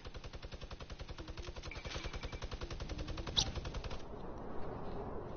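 Rapid, loud burst of minigun fire in the Fortnite video game, a steady rattling stream of shots that runs for about four seconds and then cuts off into quieter game noise.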